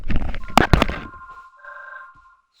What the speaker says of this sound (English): And now I have a phone call.